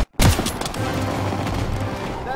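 Gunfire crackles in Call of Duty WWII, with a sharp burst at the start followed by dense, sustained battle noise.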